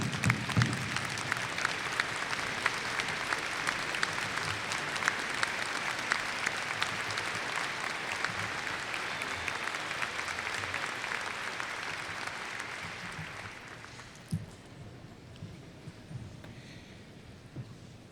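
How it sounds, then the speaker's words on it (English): A graduation audience at Minot State University stands and claps, a dense, sustained round of applause that holds steady for about fourteen seconds, then thins to a few scattered claps and settles into quiet room noise. "anyone would please stand and give Dr. Fuller a big round of applause"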